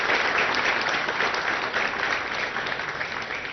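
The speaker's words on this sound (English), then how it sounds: "So I think a good round of applause to the entire team on that." Applause from a ceremony audience marking production of the 100th Apache fuselage, a dense, steady clatter of many hands clapping throughout, loud and close, with no speech over it.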